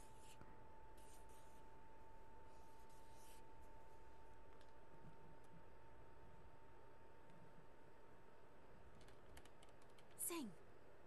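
Fingers tapping on keys drawn on a desk in the horror game Remothered: Broken Porcelain, soft quick clicks and taps in short bursts over a quiet hum, with one sharper knock near the end.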